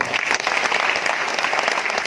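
Loud, dense applause fills a business seminar hall as an audience claps continuously for a company vice president, with a faint voice mixed in.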